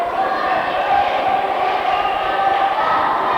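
Dense crowd murmur fills an old school gymnasium during a 1995 seventh-grade boys basketball game, steady and reverberant with faint ball bounces and scattered shouts mixed in.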